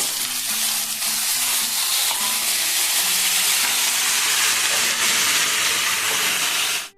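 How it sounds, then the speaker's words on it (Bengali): Vegetables frying in a pan with panch phoron, including pumpkin, eggplant, taro, pointed gourd and radish, with dried chili, bay leaf and bori: a loud, steady, dense sizzle that holds without a break and then cuts off abruptly. "এখানে সব সবজিগুলো একসাথে আমি ভেজে নেব"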